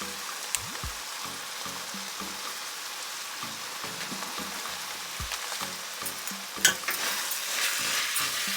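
Taco sauce and seasoning powder are stirred in a pan over a quiet background sizzle. Repeated low scraping and knocking strokes from the stirring are clearly audible, with a sharp clank partway through.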